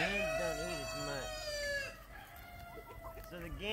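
Roosters crow repeatedly among chickens on a homestead, with clear cock-a-doodle-doo calls up close early on, followed by softer clucking and another crow at the end.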